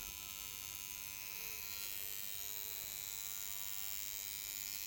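A tattoo machine buzzes close by, a steady high electric whine with a faint rattle where it touches a nearby camera, continuous and alone.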